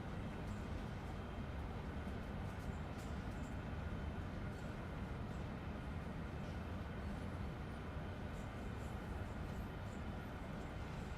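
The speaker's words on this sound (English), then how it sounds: "I do love all the little noises you hear in this train" Steady train interior rumble inside a Train Sim World 4 cab, a constant dense low roar of wheels and running gear with faint scattered ticks and clicks on top, unbroken throughout.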